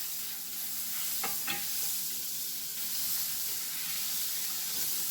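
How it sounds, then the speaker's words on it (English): A half stick of unsalted butter melts in a hot pan for a chicken marsala sauce. It gives a soft, steady sizzle throughout, with a couple of quick scraping stirs near the start and no speech. "we're going to add about a half stick of unsalted butter, and we're going to melt that in the pan"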